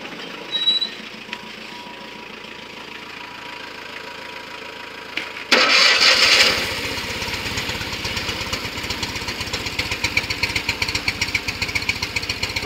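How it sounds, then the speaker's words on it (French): A Fiat 500 engine is cranked and catches at once, settling into a loud, rough, rapidly knocking idle that keeps running to the end after a quiet start. "le moteur a démarré"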